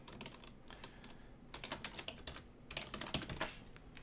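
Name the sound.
typing on a computer keyboard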